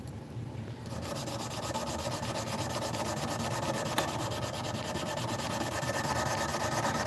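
Knife blade rubbed with 120 grit sandpaper in a steady, continuous back-and-forth scratching that stays close and even, with no voices.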